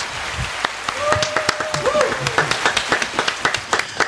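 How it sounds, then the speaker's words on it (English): A few people clapping at an informal band gathering, sparse uneven claps that build into a quicker scattered rhythm, close and fairly loud, with a voice and a faint tonal whistle or hum in the background. "I think that I have to give myself my own applause."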